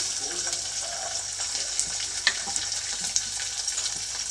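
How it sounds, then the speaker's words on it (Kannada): Chopped onion and garlic frying in a pan for dal, a bright, continuous hiss and crackle with a few sharper pops and spoon scrapes, close and steady without voices. "ಇವಾಗ ಈರುಳ್ಳಿ ಮತ್ತು ಬೆಳ್ಳುಳ್ಳಿದು ಹಸಿ ವಾಸಿ ಹೋಗೋವರೆಗೂ ಇದನ್ನು ಚೆನ್ನಾಗಿ ಸ್ವಲ್ಪ ಫ್ರೈ ಮಾಡ್ಕೊಳ್ಳಿ"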